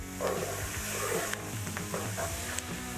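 A spoon stirs minced jalapeno and vegetables through a roux in a pot for a turtle sauce piquante, giving steady scraping and soft sizzling at close range with a few sharper clinks, no voices.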